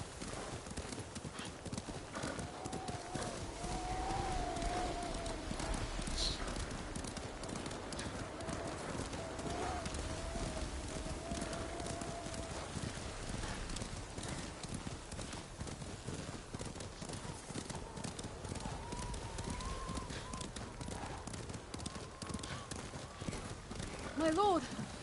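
Horses gallop in the Ghost of Tsushima video game with steady, continuous hoofbeats under ongoing dialogue and a brief whinny, over an ambient background.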